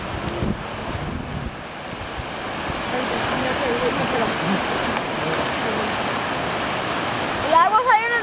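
Water rushes in a steady broadband roar during Hurricane Irene, loud and continuous, with wind buffeting the microphone and a few brief voices near the end.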